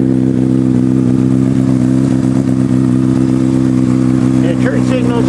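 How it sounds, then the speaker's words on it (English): A motorcycle idles with a deep, steady, burbling exhaust rumble, loud and close, while a voice talks over it. "Kind of got a really neat burbling exhaust note to it."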